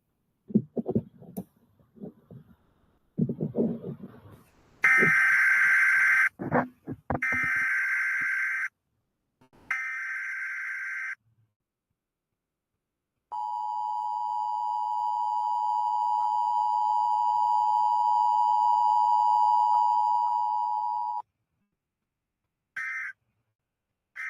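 Ham radio tones ahead of an emergency broadcast: bursts of static and harsh noisy tone blocks, then a long steady pure tone that drops out and returns briefly, loud and close.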